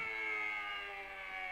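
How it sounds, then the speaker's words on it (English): A civil defense siren sounds its rising and falling nuclear attack tone, a loud sustained wail heard alone and up close, gently dipping in pitch through the short stretch. "The sirens in this case were blasting the familiar rising and falling tone"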